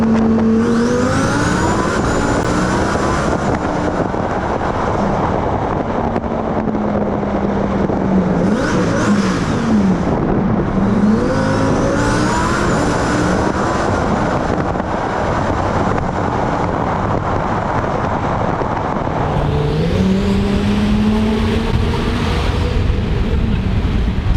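Twin-turbo 1100 hp Lamborghini Performante accelerating through a tunnel, engine revving hard with rising pitch sweeps and gear changes, loud and echoing, with wind rush over the microphone.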